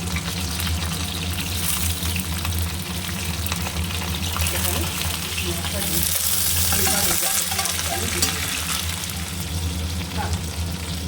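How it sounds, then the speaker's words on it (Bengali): Potato pieces fry in oil in a pan, giving a continuous close sizzle and crackle that holds steady for the whole stretch, with occasional stirring. "এই যে আলুটা ভাজি ভাজা ভাজা একটু হয়ে গেছে"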